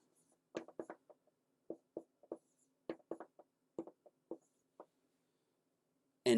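A pen or pencil writes out math on paper for a factoring lesson, producing close, quiet scratchy strokes in short irregular bursts with brief pauses, and no talking.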